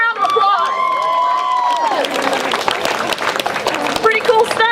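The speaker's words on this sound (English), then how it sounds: "Give yourselves a round of applause." A live audience at a Soroptimist domestic violence awareness event breaks into a loud round of applause and cheering after someone speaks. The crowd noise is dense and sustained for a couple of seconds before tapering.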